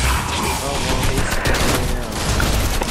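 Rapid gunfire bursts from a Fortnite match fill the clip continuously at close range, dense and loud throughout, with a voice briefly mixed in.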